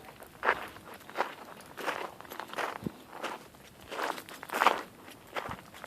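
Footsteps crunch steadily up a sandy, gravelly desert wash in Red Rock Canyon, a regular walking rhythm of about a dozen close crunching steps with faint rustling and no talk.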